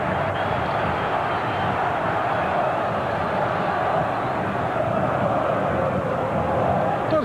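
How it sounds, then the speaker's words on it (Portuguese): Corinthians supporters fill a football stadium with continuous roaring and chanting during a 2005 match against Internacional, a dense, unbroken wall of crowd noise with no pauses. "A torcida do Corinthians não parou um segundo ainda, né?"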